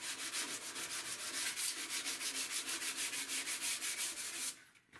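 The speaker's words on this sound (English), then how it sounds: "Now I'm working it down with a 220 dry." A spring steel cutlass blade is hand-sanded with 220 grit dry sandpaper, a close, even back-and-forth scratching in quick regular strokes, about four per second, that stops just before the end.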